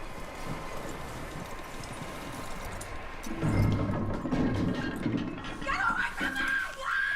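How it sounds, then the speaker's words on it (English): Horse hooves and movement in the Red Dead Redemption 2 video game, faint clopping under ambient noise, then louder scuffling and a brief higher whinny-like cry near the end, with talking mixed in. "That looks like a decent horse."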